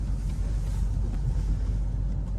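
A BMW 3 Series E90 engine drones steadily from inside the car while driving, a continuous low rumble with even road noise and no voices.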